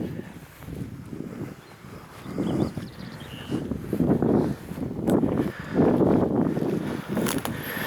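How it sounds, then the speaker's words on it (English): Gusty wind buffets the microphone in uneven surges at a castle motte, rising and falling in loud rumbling waves. "It's just getting a little bit windy."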